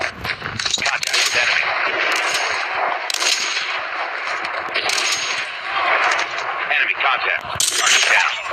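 Rapid gunfire in a ranked mobile shooter game, dense bursts of shots and metallic clangs filling the clip continuously, loud and close without pause.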